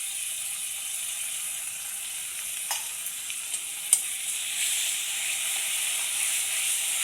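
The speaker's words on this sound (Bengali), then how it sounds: "এর মধ্যে দিয়ে দেব পেঁয়াজ বাটাটা, মরিচ বাটা, জিরা আদার পেস্ট" Onion paste, chili paste and cumin-ginger paste go into a hot frying pan, giving a steady, close hiss of sizzling with a few faint clicks and scrapes of stirring.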